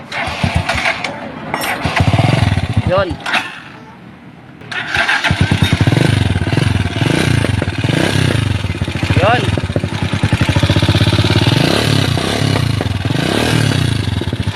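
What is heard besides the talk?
noisy Rusi 175 motorcycle engine running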